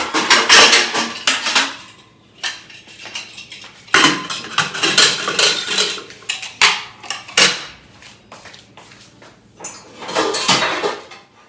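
In a home kitchen, pressure cookers are set up for dal and boiled potatoes: loud, close metallic clanks and rattles of pots and lids come in irregular bursts with short pauses between them.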